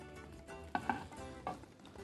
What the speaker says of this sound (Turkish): Soğanımız yavaş yavaş kavrulmaya başlandı.